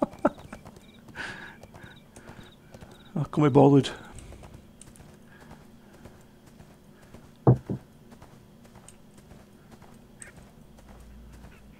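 Horse hooves clip-clop in ArcheAge, brief game-sound thuds standing out against quiet keyboard typing, with a player speaking briefly over the scene.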